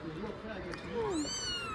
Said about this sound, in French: Depuis tout à l'heure, il miaule, comme ça.